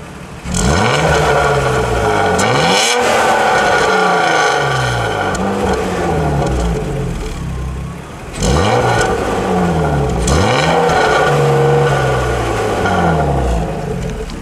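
A car engine fitted with an M3 silencer exhaust revs loudly and steadily, with two strong bursts, each climbing in pitch and then holding at high revs, the second starting after a brief dip in the middle.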